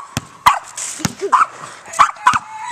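A dog plays basketball and lets out several short, sharp yips and barks at irregular intervals close by, mixed with quick thumps and whimpers.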